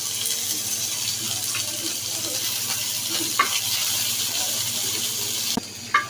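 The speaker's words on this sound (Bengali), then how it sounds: "এখন কয়েকটা কাঁচামরিচ আর একটু পেঁয়াজ একটু ভেজে নিব।" Green chillies and onion frying in mustard oil, a steady close hiss with faint stirring scrapes and a couple of sharper clicks near the end.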